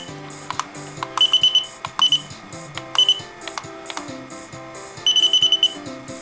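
An AC voltage tester checking a Christmas light string emits clusters of rapid high beeps in short bursts, repeating several times over faint background clicks and hum.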